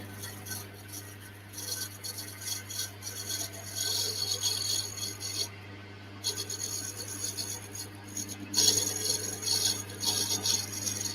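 A lathe cuts a stiletto dagger handle, a steady low machine hum under rasping, scraping passes of the tool that swell and fade across several seconds, close and fairly loud.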